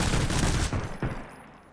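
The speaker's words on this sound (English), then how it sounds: "My own sentry guns tore apart my own freaking base." Automated sentry guns in Sunkenland unleash a dense, loud burst of rapid gunfire against a base, the volley thinning into a few final shots and a fading ring.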